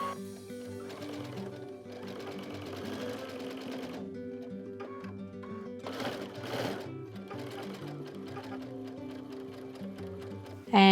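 A sewing machine stitches a quilt block seam, a fast, even mechanical whir in short bursts with brief pauses, close up, with faint speech underneath.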